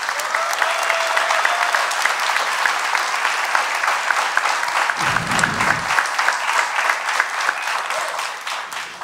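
Applause for the keyboard player at an instrumental progressive-jazz band concert, dense steady clapping from the audience that fills the whole stretch at a constant level, with a brief low thump partway through.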